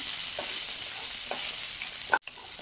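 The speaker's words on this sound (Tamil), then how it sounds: "வெங்காயம் ஒரு ஏழு எட்டு சின்ன வெங்காயம் சேர்த்துக்கலாம் புளி ஒரு சின்ன சைஸு நல்லா வதக்கிக்கலாம்" Small onions and tamarind sauté in a pan, giving a continuous close hiss of frying with a few soft stirring scrapes. A sharp spatula clack cuts in near the end, and no one speaks.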